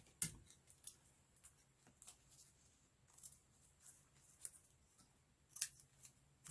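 Scissors snipping through journal material in a series of crisp, close cuts at an uneven pace, each snip a short sharp click in an otherwise quiet room.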